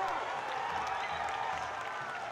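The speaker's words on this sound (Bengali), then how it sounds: "দর্শক মাঠের চারে কোণ থেকে একটা জোরে হাততালি হয়ে যাক" Spectators around a cricket ground applauding, a faint distant wash of crowd clapping and murmur, steady and low in level.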